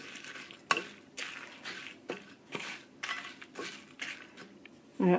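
Turmeric powder being stirred into a hot spice mix in a pan: a series of spoon scrapes and knocks against the metal, irregular and close, with quiet gaps between strokes.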